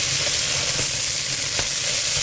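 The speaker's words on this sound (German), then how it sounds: "Und das werden wir jetzt einmal fest anbraten." Ground beef sears hard in a hot pan while browning for a lasagne, giving a loud, steady, dense sizzle and crackle that carries on without a break.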